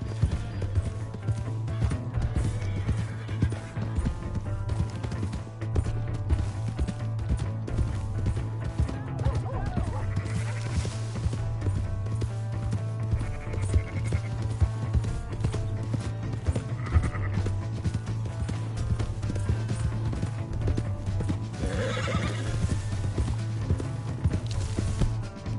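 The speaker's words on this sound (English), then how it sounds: "Hey, that's my horse!" A horse in the Red Dead Redemption 2 video game clip-clops at a gallop and gives a whinny, set against a steady low hum, with voices talking over it at times.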